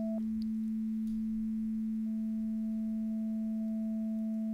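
A single synth note from a Pro Tools virtual instrument, layered with a fifth and an octave, a steady pure sustained tone held throughout, faint and clean with no voices.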